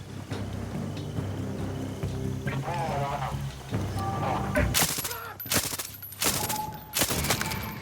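Assault rifle fire in the Far Cry 6 video game, several loud sharp bursts in the second half following a stretch of game music and ambience.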